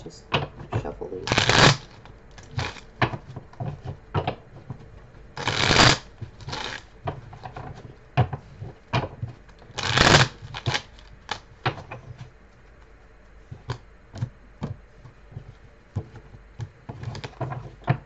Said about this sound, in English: Just shuffle these.